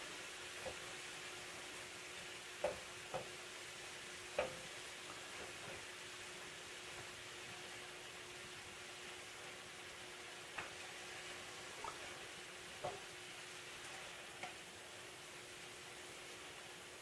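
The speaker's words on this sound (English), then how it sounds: "Make sure you keep this stirred." Meatloaf ingredients sizzle quietly in a pan with a soft continuous hiss, punctuated by a few scattered light clicks and taps as they are stirred.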